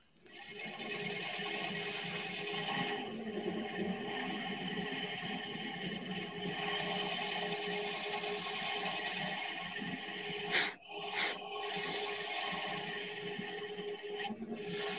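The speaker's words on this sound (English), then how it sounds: "So what I would do at this point is sand it to 80 grit" Steady abrasive rubbing of 80 grit sandpaper against a turned wooden sphere spinning on a lathe, a continuous close whir and scratch that runs almost unbroken, with one short dip near the end.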